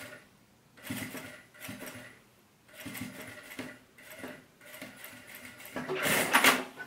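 A sewing machine stitches bias binding onto a fabric crossbody bag in short, separate bursts of whirring, each a second or so long, growing louder and denser toward the end.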